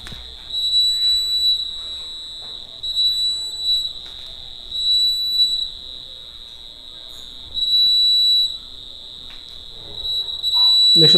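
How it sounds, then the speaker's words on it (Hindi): Smart glasses for the blind, an obstacle-warning aid, sound a loud, steady electronic alarm beep that repeats in bursts as the wearer approaches a wall, with faint background noise between the bursts. "जैसे मैं इस दीवार के सामने जाऊंगा कैसे अलार्म बजने लगेगा"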